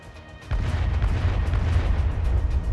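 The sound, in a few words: grenade explosions in a voice-acted Arknights story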